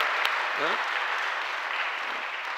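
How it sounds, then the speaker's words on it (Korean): Applause from a church congregation for the volunteers during a Sunday service, a dense steady wash of clapping filling the room, with a brief voice rising over it. "우리 그분들 봉사자들 위해서 한번 박수 한번 하시죠"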